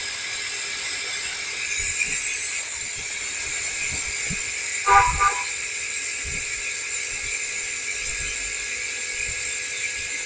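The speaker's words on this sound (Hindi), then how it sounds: "अभी हमारा कंप्रेसर परफेक्टली ऑन हो चुका है" A Hitachi inverter air conditioner compressor runs with a steady high-pitched whine and broad hiss, loud and constant throughout, with a brief tonal chirp midway and no talk.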